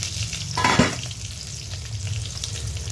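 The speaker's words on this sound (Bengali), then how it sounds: "মাছের মাথাগুলো ভাজা হয়ে গেছে" Katla fish heads frying in hot oil in a pan, a continuous close sizzle with a brief clatter of a lid or utensil near the start.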